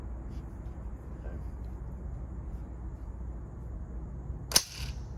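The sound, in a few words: rifle bolt being shut on a chambered round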